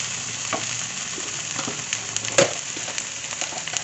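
Shrimp paste (bagoong) sautéing in a pan with onion, garlic and tomato for kare-kare, a steady close sizzle broken by spatula stirring scrapes and one sharper clink partway through; no talking.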